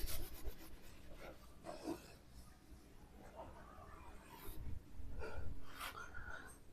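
Rubbing out writing on a board during a physics lecture: rough, raspy back-and-forth scrubbing strokes in bursts, close and moderately loud, with breathing and brief vocal sounds in between.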